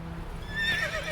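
Roach the horse in The Witcher 3 lets out a short, close, high whinny that rises and falls over a steady background hum.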